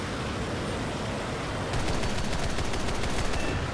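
30mm aircraft cannon fire in War Thunder, set on a Kikka jet, rattles in a rapid, dense burst over a constant roar of engine and wind noise, joining partway through and continuing steadily to the end.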